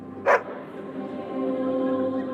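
A single short dog bark rings out in Dragon Age: Origins, standing out briefly over a steady low hum of game ambience.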